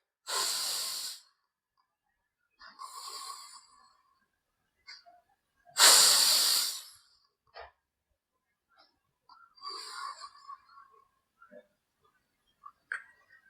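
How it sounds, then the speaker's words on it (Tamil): Deep yoga breaths in a stress-relief practice: two strong airy inhalation-exhalation bursts, close and loud, separated by quieter softer breaths and small clicks, with silence between. "முதல்ல நல்லா ரெண்டு மூச்சு இழுத்து விடுங்க"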